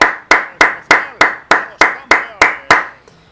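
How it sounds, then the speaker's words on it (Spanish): A single pair of hands claps ten times in a slow, even rhythm, each loud, close-up clap ringing briefly before the next, ending in near silence. "Hay que aplaudirles."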